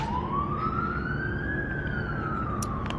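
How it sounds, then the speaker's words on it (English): A police siren wails slowly up and down over a steady rumble of traffic in a Grass Valley parking lot, fairly close and loud, with no voices. "You're just gonna have some siren noise in the background today."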